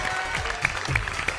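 Audience applause at a Punjabi television quiz game show, a steady wash of clapping with a few sharper claps standing out, sustained for the whole moment.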